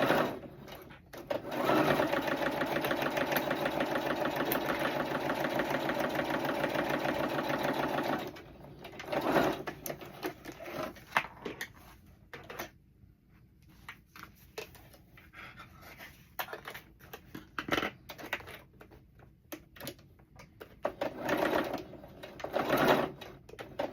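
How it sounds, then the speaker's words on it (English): A sewing machine stitches both sides of a pocket, with a steady rapid whirring run for several seconds, then shorter start-stop bursts of stitching with backstitching, up close. "let's go ahead and sew both sides"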